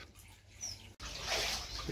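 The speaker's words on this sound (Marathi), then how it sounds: "अरे पाणी भर की त्यात." Water pours into a container during Rangpanchami festivities, a loud, steady rushing that begins abruptly halfway through and continues to the end after a quieter opening.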